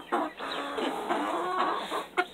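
Black Sexlink hens cluck and murmur close by in a steady, busy chatter of short calls, with no talk over them.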